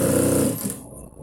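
Sewing machine stitching a blouse, a loud, close whir for about half a second that then stops and fades into quiet.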